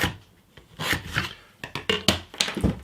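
A pencil drawn along a set square across a wooden guitar fretboard blank in a workshop: dry, raspy scratching strokes that come in uneven bursts, close and moderately loud, with some tapping and handling noise and no talk.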